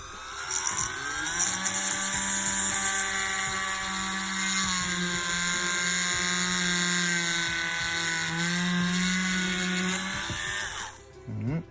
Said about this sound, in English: So we're going to start by drilling in here.